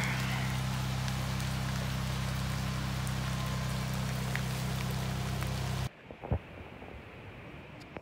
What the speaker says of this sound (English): But it's raining. We're working on the rain, of course.